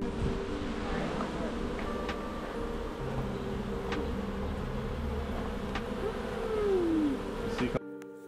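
Dense buzzing from about 50,000 honeybees around hives surrounds the listener, a steady swarm drone with individual bees zipping past up close, and a faint voice in the background.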